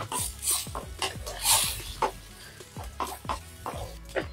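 Mussels frying in butter in a pan with spring onion, giving a crackling sizzle broken by repeated stirring scrapes and clinks, close and moderately loud.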